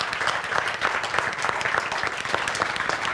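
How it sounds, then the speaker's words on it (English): Steady applause from an audience, dense clapping sustained throughout at a moderate level. "please have a big round of applause for all of this"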